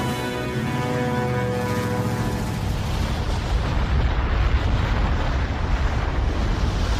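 A cartoon volcano erupts with a deep, continuous roaring rumble that swells and grows denser, following a fading tonal hum.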